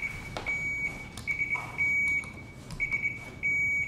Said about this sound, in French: On va tout de suite tester les buzzers pour être sûr.